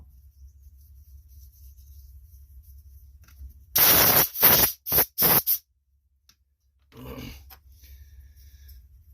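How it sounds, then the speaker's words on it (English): Several sharp hissing bursts of an aerosol spray cleaner on a garden tiller carburetor float, close and loud, followed after a pause by a fainter short spray. "Now we're going to spray our float."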